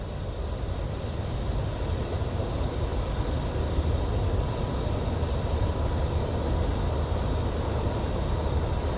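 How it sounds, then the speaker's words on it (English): A train rumbles past near a forest campsite at night, a low, broad, steady roar that holds for several seconds at a moderate distance, with no voices. "so you guys don't have to hear this train all night"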